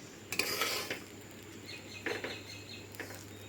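Mustard seeds being stirred continuously in a pan while dry-roasting until crisp for homemade mustard oil, giving a few scraping, rattling bursts of spoon against metal over a quiet steady background.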